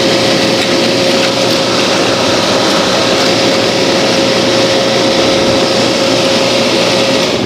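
An Appion G5 Twin refrigerant recovery machine runs steadily for the whole stretch, a loud continuous motor drone with a fixed whine over broadband mechanical noise and no voices.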